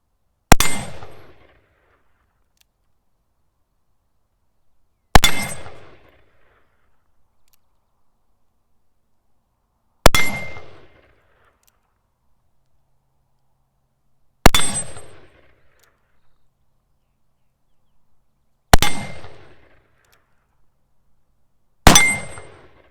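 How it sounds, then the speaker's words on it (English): Six sharp, loud gunshots from a Colt Walker black-powder revolver firing big Dragoon bullets, each followed by the ring of a struck steel target, evenly spaced about five seconds apart outdoors. "Why don't we go see how well we can ring one of them with the Walker and those big Dragoon bullets?"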